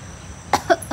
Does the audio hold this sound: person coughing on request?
yes